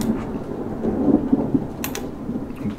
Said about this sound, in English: Lightning out there right now.